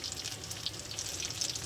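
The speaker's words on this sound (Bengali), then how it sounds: "বড়াগুলো ভেজে নেব।" Steady, close sizzling and bubbling comes from mango and banana fritters frying in hot oil in a wok, with no talking.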